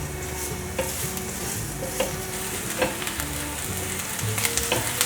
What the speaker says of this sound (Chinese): 放入姜，还有芹菜，把姜和芹菜炒香。